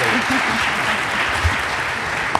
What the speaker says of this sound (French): Ils vont vous applaudir, les jeunes